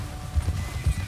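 A horse gallops in Red Dead Redemption 2, a brief burst of heavy, rhythmic hoofbeats thudding close and fairly loud over a low game backdrop.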